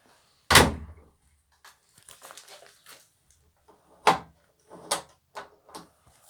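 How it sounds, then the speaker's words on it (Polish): A door shuts with a sharp, loud thud near the start, followed by softer knocks, shuffling and a few more bumps in an otherwise quiet indoor room. "Okej, już drzwi są zamknięte, więc już nikt się tutaj nie dostanie."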